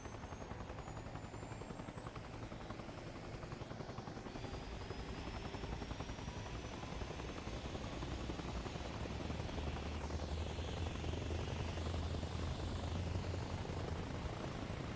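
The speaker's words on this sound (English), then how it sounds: "Oh, some helis going there." Helicopters flying in the video game ARMA Reforger, a steady rotor thrum and buzzing drone that stays constant and moderately distant throughout, with no talking.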